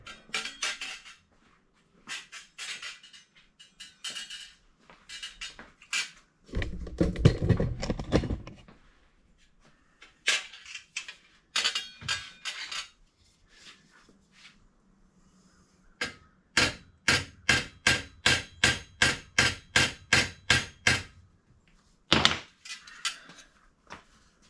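Sharp metallic hammer blows from a ball peen hammer on a Schwinn bicycle rear fender, ringing out in scattered clusters, then a fast even run of about a dozen close, loud strikes, with a brief duller rumble early on.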